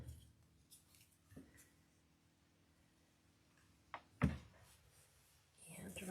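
Scissors snip through the bottom of a floral stem for a sage and lavender wreath, a couple of quiet sharp cuts near the mic, with faint rustling and a low background hum.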